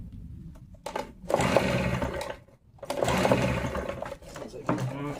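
Stihl BR 380 backpack leaf blower engine struggling to start on choke: a rough two-stroke roar surges up, dies back with a brief dip, then surges again, loud and close, with no clear speech.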